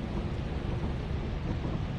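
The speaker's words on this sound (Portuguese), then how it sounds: "Tá chovendo, família." Rain and thunder in the horror video game Lethal Company form a steady, dense hiss of rainfall over a low, rumbling thunder roll, continuous and moderately quiet.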